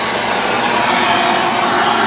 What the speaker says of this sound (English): So we're gonna take a torch to it and burn off whatever's left.